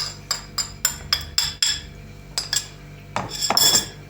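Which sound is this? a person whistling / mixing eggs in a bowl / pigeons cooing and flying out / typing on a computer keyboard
mixing eggs in a bowl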